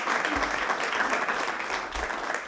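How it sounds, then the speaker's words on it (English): A round of applause at a city council meeting, dense steady clapping from a room of people that holds for a couple of seconds and begins to thin near the end. "Let's give him another round of applause."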